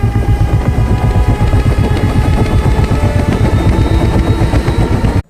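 A loud, steady rhythmic chopping of helicopter rotors with a rumbling engine drone in a Bollywood film scene, continuous throughout and cutting off abruptly at the end.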